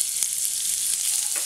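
Ginger and garlic fry in hot sunflower oil with cumin seeds, making a loud, steady, close hiss of sizzling with a few faint stirring taps.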